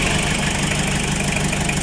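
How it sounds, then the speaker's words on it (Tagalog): A Toyota Liteace engine idles low with the air conditioning on, a steady, close mechanical drone with a faint rough knock and no talk over it. "namamalag yung ating makina pagka nako yung aircon kasi mababa yung idle niya"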